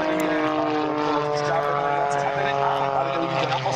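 Propeller aircraft flying at the Red Bull Air Race during the 2019 Pardubice aviation fair, a steady droning engine hum with a continuous harmonic whine, held at even loudness throughout while a commentator talks over it.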